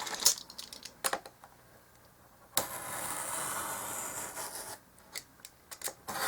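A craft knife cutting a small 6 by 2 wooden piece for a dollhouse porch along a ruler, with a few light taps and clicks, then a long soft scraping stroke, close and quiet.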